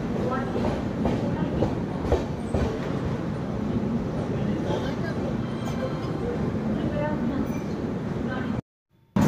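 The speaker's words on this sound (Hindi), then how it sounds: "राजा की मंडी से भी अपना डिपार्चर हो चुका है, ट्रेन यहाँ पे मात्र 2 ही मिनट रुकी थी" The Chhattisgarh Express pulls out of Raja Ki Mandi station in Agra with a loud, steady rolling rumble of wheels and carriages. Faint voices sit beneath it, and the sound cuts out abruptly near the end.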